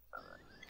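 Single short croak from a chocolate frog in a Harry Potter 2 video game, a faint, brief tonal call that rises and fades in under a second.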